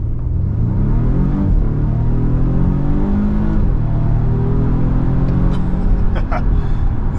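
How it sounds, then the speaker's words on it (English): A 2024 Volvo V60 Polestar pulls hard from 0 to 60 at night, its engine note climbing steadily through rising gears with a short dip at a shift, loud and close throughout, with no talking. "Let's roll that nighttime Bruce Wayne Batman 0 to 60."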